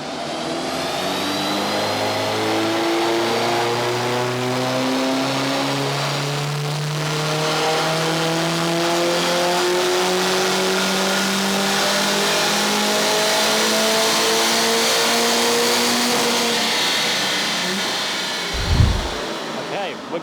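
A Mercedes A45S AMG on a rolling-road dyno with stage 2 tuning revs hard in one long climbing pull through the gears, loud and near, ending in an abrupt thump as the run stops.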